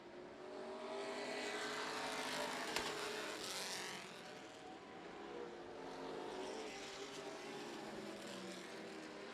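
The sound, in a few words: race cars at Houston Motorsports Park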